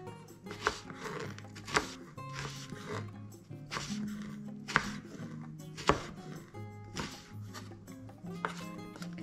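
A kitchen knife chops food on a board in a series of crisp, evenly spaced knocks, roughly one per second, close but moderately quiet, with no talking.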